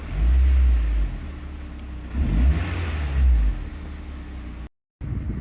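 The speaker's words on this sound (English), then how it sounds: "Give it a rev." A cold 2004 Honda S2000 with a manual gearbox and about 21,824 miles is revved at idle, its engine rising in two loud, close surges with a low rumble between them, then cut off abruptly near the end.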